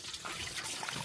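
A clay pot of pongal boils over on an open fire at a home Mattu Pongal celebration, liquid bubbling and trickling down the sides in a soft, continuous run of dribbles and drips.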